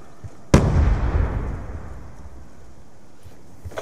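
A sticky grenade detonates in Call of Duty: Black Ops 2 with a single sharp, loud blast, followed by a long rumbling decay that fades over several seconds.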